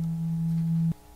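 A steady pure tone at the second harmonic, twice the fundamental pitch, holds unchanged for about a second and then stops abruptly, with no other sound.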